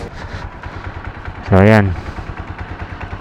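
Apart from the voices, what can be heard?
TMX Alpha motorcycle engine running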